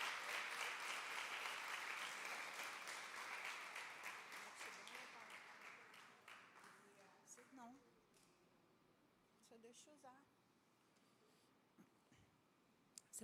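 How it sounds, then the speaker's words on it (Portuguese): A church congregation applauding during a Sunday morning service: loud sustained clapping that slowly fades and thins out to scattered claps, with a voice speaking over the tail end. "Você pode dar um aplauso ao Senhor por essa palavra?"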